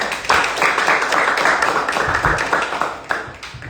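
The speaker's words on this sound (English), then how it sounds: "Let's give him a round of applause" An audience at an investor meetup about Section 8 rentals applauds a guest, with dense, steady clapping that fills the room and carries on without pause.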